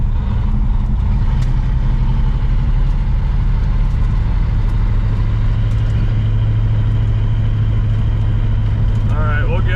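A 1970 Pontiac Grand Prix with a four-speed manual pulls along a country road in third gear, its engine a loud, steady low drone that fills the whole stretch, with no break in the noise.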